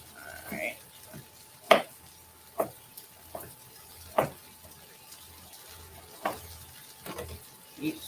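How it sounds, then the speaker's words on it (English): Onion sautéing in a pan while being stirred, a faint low sizzle broken by scattered sharp scrapes and knocks of the utensil against the pan at irregular intervals. "Keep stirring the onion."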